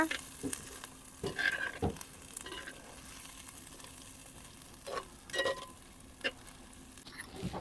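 Prawns frying in a pan over a wood-fired stove, a steady soft sizzle with intermittent louder scrapes and stirring clatters; no talking.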